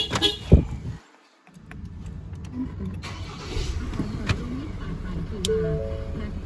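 A 2024 Ford Ranger Next Gen engine restarts via an installed push-start button: a click, a brief silence, then the engine cranks and settles into a steady close idle hum.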